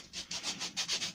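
Rhythmic back-and-forth scratching of folded sandpaper on wood, about eight quick rasping strokes, close and fairly loud.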